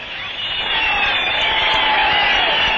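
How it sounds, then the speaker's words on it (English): A crowd at Melbourne cheering the England to Melbourne air race aviators in 1934, a broad wash of cheering and clapping that swells and holds steady, with someone talking over it. "Parmentier and Mull also get an enthusiastic reception from the crowd."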